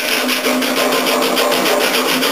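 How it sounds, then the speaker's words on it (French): A wooden planter-stand part is sanded by hand with a homemade sanding block, giving close, rhythmic rasping strokes in quick back-and-forth succession with no voices. "poncer cette pièce-là. J'insiste plus sur la partie"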